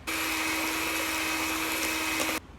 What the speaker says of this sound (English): Maybe I'll just use the mixer again.